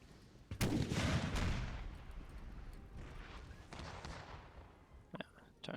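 Cannon fire in a Russia versus France combined-arms battle game: a loud booming blast with long rumbling decay, followed by a second distant boom and sharper cracks near the end, with no voices over it.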